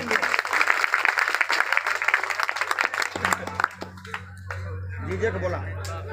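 Wedding guests applaud in welcome for the bride's uncle at a Hindi marriage ceremony, loud clapping for about three seconds that fades into a lingering hum and scattered voices.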